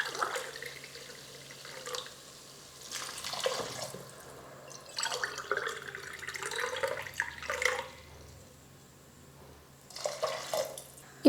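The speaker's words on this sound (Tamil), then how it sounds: "இப்போ தண்ணி சேர்த்துக்கலாம்." Water poured onto basmati rice and green peas in a pressure cooker, a splashing pour in several bursts with brief pauses between, close and moderately loud, with no talk.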